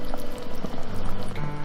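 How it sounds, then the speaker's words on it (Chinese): Water is poured into a clay pot holding bones, lotus seeds and lily, a close, bubbling, gurgling splash that runs continuously for under two seconds. "接着把莲子、百合放进去，加入适量的清水"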